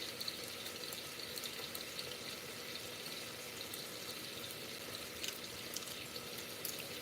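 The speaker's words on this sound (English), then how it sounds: "I'm going to go ahead and put these bouillon cubes in some hot water" Hot water runs into a container for dissolving bouillon cubes while Instant Pot black-eyed peas are prepared, a steady faint splashing pour with no talking.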